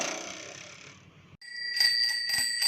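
A bright bicycle-style bell rings a few times with a clear metallic tone, close by, after a brief stretch of other noise.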